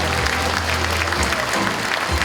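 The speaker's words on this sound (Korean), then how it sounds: "큰 박수 부탁드립니다" A crowd at a talk concert applauds with steady, full clapping throughout, loud and close.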